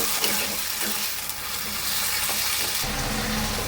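Ground ginger, garlic and green chili paste frying with onion and tomato for a spicy Bengali potato dish, a close, continuous sizzle and crackle with scraping stirs that grows hotter and denser near the end.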